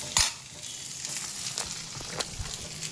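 Leftover okra (bhindi) from the day before is reheated and stirred in a pan, giving a steady close sizzle broken by scraping strokes of the spoon, with no one talking.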